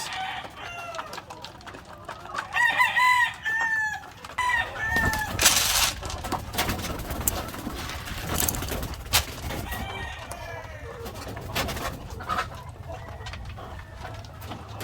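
Hens on a farm, about four years old, that have just started laying eggs again, clucking and crowing close by. The calls come in bursts over steady background noise, with a louder stretch near the start.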